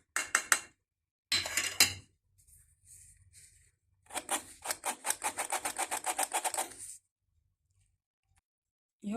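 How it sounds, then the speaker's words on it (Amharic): Flour mixed with baking powder is sifted for a dry cake, giving soft raspy rubbing bursts, one long run of rhythmic shaking strokes in the middle, separated by quiet gaps. "ይኸው እንዳያችሁት ዱቄቱን ነፍቻ አዘጋጅቻለሁ"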